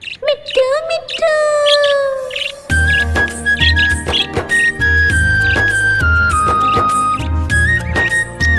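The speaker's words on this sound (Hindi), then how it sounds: "मैं तोता" A parrot chirps in a quick run of sharp tweets and rising whistles, then a bright melodic tune with a steady beat plays on with chirp-like accents over it.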